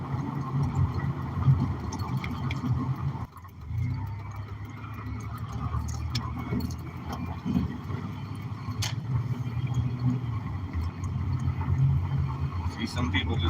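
A farm tractor hauling a couch rumbles in with a steady low engine drone, close and continuous, as people talk over it.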